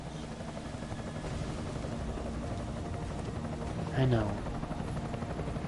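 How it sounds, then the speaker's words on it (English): Enemy helicopter in the video game Deus Ex: Mankind Divided, a steady rotor drone running throughout under game sounds, with a brief spoken line from a voice near the end. "Enemy helo sighted."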